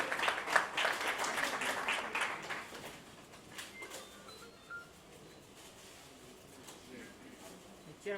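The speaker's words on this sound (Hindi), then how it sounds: "एक बार जोरदार ताली होनी चाहिए पीछे पर" Audience applause at the 'Dil Toh Deewana Hai' music launch, a burst of clapping for about three seconds that thins into scattered claps and hall murmur.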